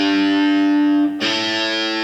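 A distorted electric guitar holds one sustained note and then changes to another as part of a fretted-note exercise using the little finger, loud and alone.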